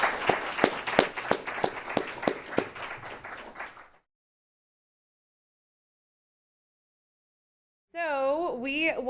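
Small audience at a conference session claps for panelists, a few seconds of distinct, scattered handclaps fading out, then silence before a synthetic whooshing tone starts.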